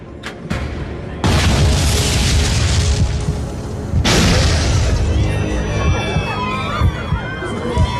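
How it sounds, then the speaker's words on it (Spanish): Two sudden booming blasts aboard an airplane, the first sharp and brief, the second heavier and rumbling, followed by loud roaring noise with faint shouting and cries. "Dos explosiones sacudían el avión."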